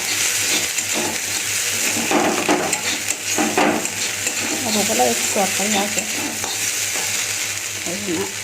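Potatoes frying in a small amount of oil in a pan, a steady close sizzle with occasional stirs and clinks, while someone speaks briefly over it.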